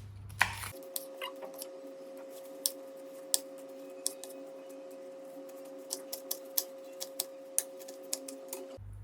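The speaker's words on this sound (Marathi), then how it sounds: "आता हे पान आपण थोडं कापून घेऊया." Papaya-style medicinal leaves are cut with a tool, producing a series of sharp, irregular snips and clicks close by over a steady faint hum.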